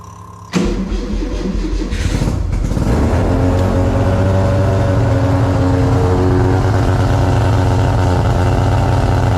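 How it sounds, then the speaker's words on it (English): A Formula Mazda race car engine fires up after a short pause and settles into a steady, loud idle with a rough, throbbing rumble that continues alone for several seconds. "the next shot should be of the car running"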